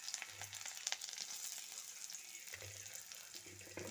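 Onions sizzle in hot oil in a pan, a faint, steady hiss with a soft crackle that runs the whole time, close by and with no voices.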